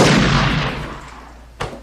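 Film gunshot sound effect: one heavy booming blast that fades out over about a second, then a short sharp crack near the end, loud and close with no voices.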